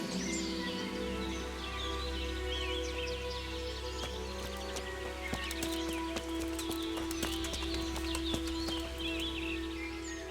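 Horse hooves clip-clop at a steady walking rhythm in the medieval game Kingdom Come Deliverance, moderately close over a constant ambient bed with faint bird calls and no talk.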